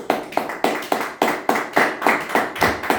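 A church congregation claps in a steady rhythmic beat, loud, close and continuous, roughly four claps per second with no talk over it.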